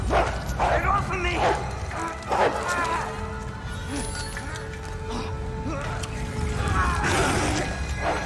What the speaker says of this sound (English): I hate the dogs.